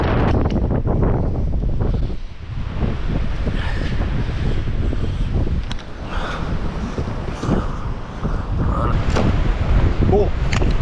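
Strong storm wind buffets a forest, roaring loud and continuous against the microphone in heavy gusts, with someone talking intermittently beneath it.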